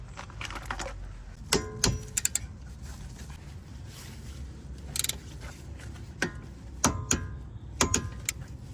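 Mechanical clicks and metallic clinks from a torque wrench tightening the two brake caliper bolts on a Toyota Auris hybrid's front brakes to 34 Nm, a few sharp clicks spread over a low background hum.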